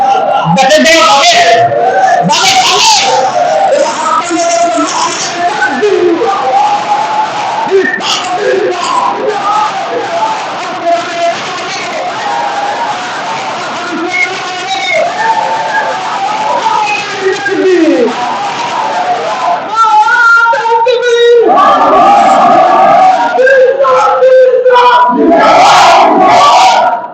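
A large crowd shouts a takbir slogan in unison, a loud, continuous mass of raised voices and rhythmic chanted calls that keeps up without a break for nearly half a minute.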